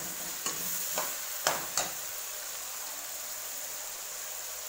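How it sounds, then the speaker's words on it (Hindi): Ginger garlic paste fries and sizzles in a pan, with a steady hiss and a few sharp scraping stirs near the start, heard up close without talk. "अदरक लसन का पेस्ट ऐड कर लेने। थोड़ी देर इन भुन्ना गे।"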